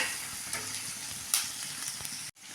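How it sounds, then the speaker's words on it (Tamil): Onions sauté in a pan with a little ginger, giving a close, continuous crackling sizzle with a few louder spits before it cuts off abruptly near the end. "வெங்காயம் இதெல்லாம் கொஞ்சம் நல்லா வணங்குங்க"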